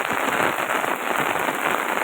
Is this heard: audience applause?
no